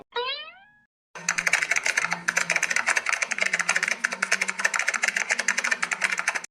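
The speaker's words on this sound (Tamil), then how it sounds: "ஒரு மாதிரி ரொம்ப நேரமா தட்டுன்னு தட்டிட்டே இருக்காரு கீபோர்டு." Rapid, steady keystrokes on a laptop computer keyboard continue for several seconds, close and fairly loud, after a brief springy boing-like sound effect at the start.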